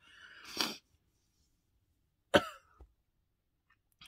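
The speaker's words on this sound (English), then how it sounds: "oh, I'm gonna sneeze." A short sharp sneeze bursts out nearby after a brief breathy lead-in, then silence with a small trailing sound.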